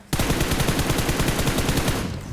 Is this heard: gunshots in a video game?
yes